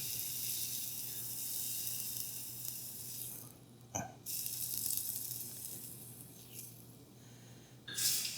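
A rosette iron coated in batter is lowered into hot oil, setting off a steady, loud sizzle and bubbling with sharp pops and bursts near the middle and end of the frying. No voices are heard.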